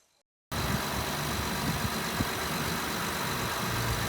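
A Honda truck engine with 225,000 miles idles steadily and close by, a smooth, even hum that starts abruptly after a brief silence and holds at a constant level throughout.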